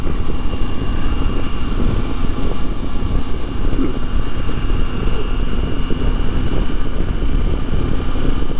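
Steady, loud wind noise rushes while riding a 2024 Triumph Tiger 900 GT Pro motorcycle, a constant roar with low rumble and no talking.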